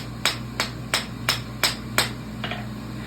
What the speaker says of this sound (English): You're bumping it up with the hammer, but now you're just doing it on the anvil face.